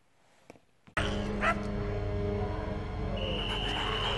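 A dog in a zombie movie set around a shopping centre, with a brief yelp or bark at the start and then a loud, continuous music-and-effects background that carries on without any speech.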